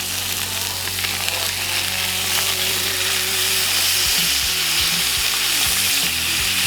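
Beef steaks sear in a hot pan with a loud, steady, close sizzle, joined partway through by scraping and clanking as they are flipped, with no talk.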